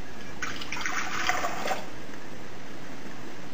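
Warm water for pizza dough is poured in a brief splashing stream lasting about a second and a half, followed by quiet room tone.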